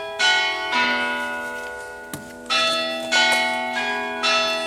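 Bright, ringing chimes strike three times in an irregular pattern beside a beehive, each tone lingering and fading slowly, loud and close with no voices.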